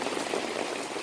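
Rain falling in a garden, a dense, steady patter of drops hissing on leaves and surfaces, close and continuous without any voices.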